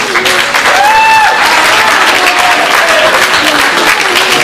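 An auditorium audience gives loud, sustained applause for a team at a season-ending competition. Dense clapping fills the hall throughout, with a faint voice briefly audible beneath it.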